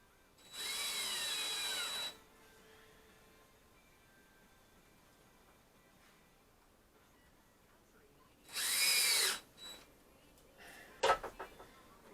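A power drill drives screws into a wooden shelf being built for tires. It runs in two separate whirring bursts, the first about one and a half seconds and the second shorter, followed by light knocks and clatter.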